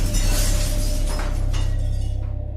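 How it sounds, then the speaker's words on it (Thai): Glass shattering in a ghost story, a loud crash with a bright spray of shards over a heavy low rumble that slowly fades out. "หนักถึงขั้นมีเสียงแก้วแตกและเสียงข้าวของที่กระจัดกระจาย"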